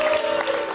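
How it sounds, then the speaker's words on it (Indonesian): An audience claps for Umi at a religious talk, a short burst of dense applause with a faint voice under it. "Buat tepuk tangan dulu dong buat Umi."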